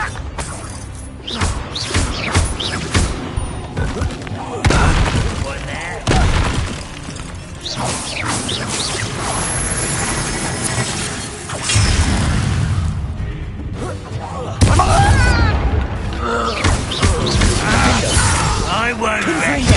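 Spell blasts from the Hogwarts Legacy video game boom, crash and shatter continuously and loudly, with whooshes and bursts layered over a busy combat soundtrack and frequent spoken lines throughout.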